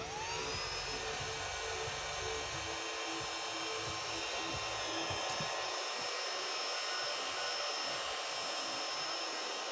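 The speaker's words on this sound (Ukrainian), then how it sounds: "Берем технический фен и греем." Constant whirring blast of a heat gun blowing air, steady and fairly quiet, with faint clicks and handling noises underneath.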